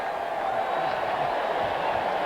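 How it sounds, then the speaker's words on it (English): A stadium crowd cheers at a Denver Broncos at Kansas City Chiefs American football game, a steady, broad, distant roar that holds level from start to finish. "An even louder cheer."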